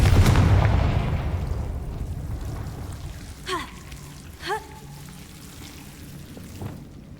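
Confringo blasting spell cast in Hogwarts Legacy, a loud fiery burst at the start that rumbles and decays over a couple of seconds, followed by quieter swooshing magical effects and faint ambient game sound.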